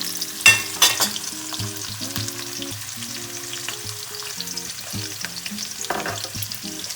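Zucchini slices frying in a pan, the last batch, with a continuous bubbling sizzle and occasional utensil knocks and scrapes, up close with no voices.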